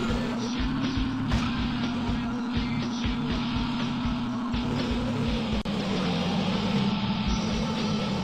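Rally car engine in Top Gear Rally Overdrive on the N64, a steady buzzing drone that rises under acceleration on a winding course, loud and continuous throughout with a brief dip near the end.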